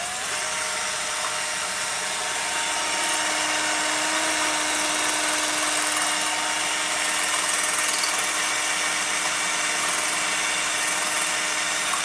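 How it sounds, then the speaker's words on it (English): A power tool mixing eggs whines steadily and loudly throughout, with a constant high-pitched motor hum and no pauses. "Power tools."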